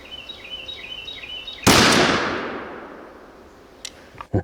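Single sharp, loud 28 gauge shotgun blast fired for a pattern test outdoors, a sudden crack decaying into a long rolling echo, preceded by faint repeating electronic chirps.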